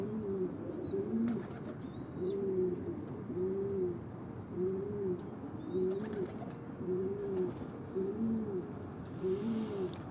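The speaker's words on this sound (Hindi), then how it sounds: "उनके ये 6 नंबर ब्रीड के ये कबूतर हैं।" Pigeons of a prized breed on a rooftop loft coo in repeated soft, rolling phrases, close and steady over about ten seconds, with a few faint higher chirps and light background noise; no speech.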